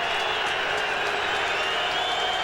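Stadium crowd at a 1995 CFL football game in Winnipeg, Blue Bombers hosting Saskatchewan, roaring and cheering in a steady, dense wash of noise through the fourth quarter, with faint commentary underneath.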